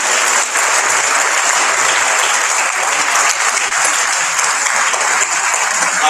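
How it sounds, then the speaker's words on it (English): A conference audience at the IPSF World Congress in Hyderabad, India, breaks into steady, dense applause that fills the room, with many hands clapping continuously and evenly at full volume and no talk over it. "let's have a proper round of applause"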